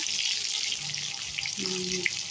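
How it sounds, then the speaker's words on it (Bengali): Tap water runs steadily into a kitchen sink while pointed gourd (potol) is washed, a constant hiss close by with a faint tonal hum near the end. "হাফটা পটল ধুয়ে দিলাম"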